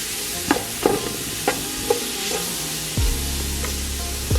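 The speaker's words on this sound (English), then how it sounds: "I'm gonna add in all my onions and peppers, jalapenos, sweet peppers" Onions, jalapenos and sweet peppers fry in oil in a pot, giving a steady sizzle with occasional stirring clatters and scrapes, close and moderately loud, with a louder hiss near the end.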